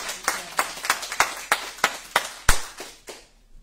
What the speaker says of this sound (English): A soft clap for Zach